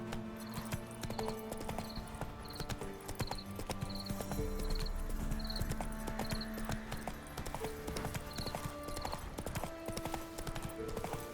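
Horse hooves galloping in The Witcher 3, a quick, steady clip-clop rhythm that runs throughout under game music, fairly quiet overall.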